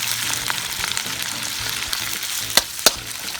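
Strips of top sirloin steak brown in a hot pan with a steady close sizzle under a low rumble, with light stirring scrapes and two sharp metallic clacks near the end, and no speech.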